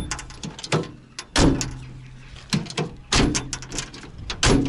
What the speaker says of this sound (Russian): Дверь закрывается.